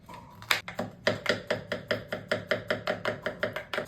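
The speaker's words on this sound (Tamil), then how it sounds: "வெங்காயம், தக்காளி, மிளகா, மக்காச்சோளம் இதெல்லாம் நல்லா சின்னதா கட் பண்ணிக்கோங்க" Onion, tomato, chili and corn being chopped finely for a vegetable ragi dosa, a steady run of close, crisp knife strikes on a board, about four per second, with no talking.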